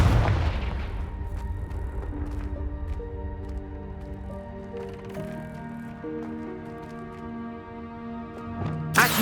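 A Confringo blast spell in Hogwarts Legacy opens with a loud explosive burst. Sustained tonal musical layers follow and fade out, and a second sharp impact lands near the end.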